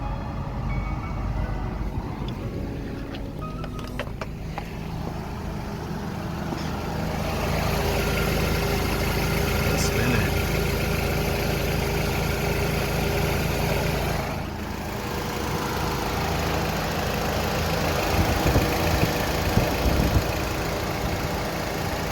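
Honda Accord engine idling with the AC compressor clutch engaged, a steady loud low rumble that rises slightly when the clutch kicks in, with occasional clicks and no talking.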